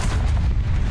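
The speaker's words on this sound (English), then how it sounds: "Bombs." Bombs going off in the tank battle game War Thunder, a dense continuous rumble of heavy low booms packed closely together, loud and close for under a second with no talk over it.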